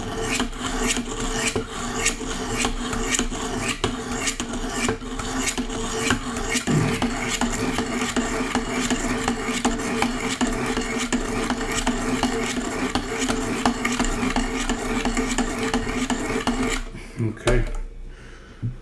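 Repeated abrasive strokes of a blade against sharpening stones on a Wicked Edge Pro guided knife sharpener, a steady rasping run of close strokes, with a brief pause near the end.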